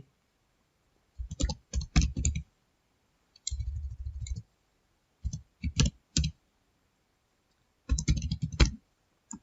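Computer keyboard typing in short bursts with mouse clicks while a database record is entered in MS Access 2007, quick clustered keystrokes separated by brief pauses, fairly near and quiet with no talk.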